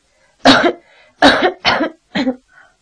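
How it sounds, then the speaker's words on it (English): Four harsh coughs in an irregular burst, loud and close, with short gaps between them and no talking. "what a terrible cough"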